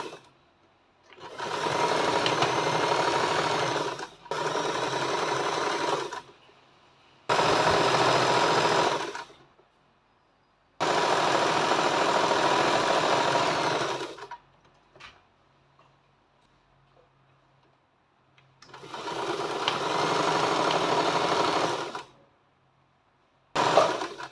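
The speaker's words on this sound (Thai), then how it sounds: "ก็จะเย็บแบบนี้ค่ะนะคะ เป็นรูปสามเหลี่ยมค่ะ" Sewing machine stitching a triangle shape to enlarge a garment's bust, running in five steady bursts of several seconds each, separated by short pauses, loud and close with no talking.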